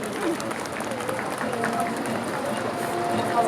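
An outdoor audience claps for a speaker at a Korean Wave star street unveiling ceremony in Gangnam, with a steady patter of applause and a spoken voice over it.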